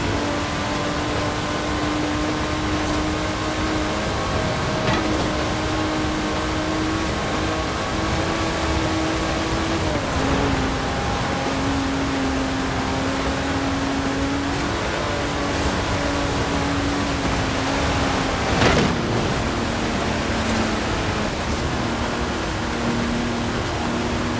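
Aston Martin DB5 Vantage, a 1960s grand tourer with side-draft carburetors, driving in Forza Horizon 4, giving a steady droning engine note that shifts pitch a few times as gears change, with no talk.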